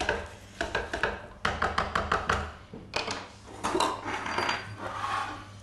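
Creamy tagliatelle being stirred through its sauce in a pan, giving a run of clattering utensil scrapes and taps against the pan in bursts, fairly close and moderately loud, with no talking.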